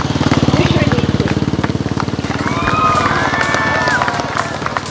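Motorcycle engine roars past during a BSF stunt show as a rider performs a posture trick on the moving bike, loud pulsing revs up close, while crowd noise and a commentator's voice carry over it.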